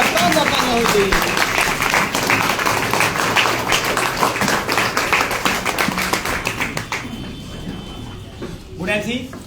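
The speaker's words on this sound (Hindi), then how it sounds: "खड़े होकर शानदार तालियां होनी चाहिए" A standing audience at a business meeting claps loudly in a fast, even rhythm that fills the hall, with voices and crowd noise underneath before the clapping thins near the end.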